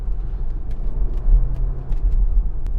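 A Porsche Macan Base drives along Mulholland Drive with a low, steady engine and road rumble, heard from inside the car, with faint brief ticks over a moderate, even level.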